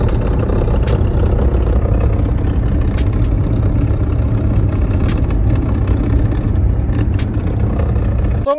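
A running Kia Picanto with a faulty steering coupler gives a steady, loud engine drone. A faint, regular ticking or knocking repeats roughly every half second throughout, with no talk.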